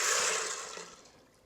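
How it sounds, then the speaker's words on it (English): Four cups of water pour steadily into an Instant Pot, a loud splashing rush that gradually eases off. "Add 4 cups of water."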